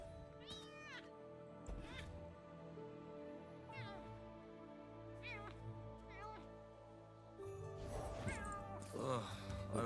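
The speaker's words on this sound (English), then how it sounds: "Kitty making noises." A cat meows several times in short bursts over a steady background of game music and sound effects, with a louder flurry of noise near the end.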